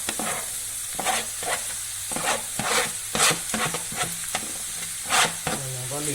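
Zucchini flesh simmering in a pan for stuffed zucchini and peppers gives a steady hiss and sizzle, broken by repeated scraping stir strokes that swell in loudness every second or so, close by with no talking.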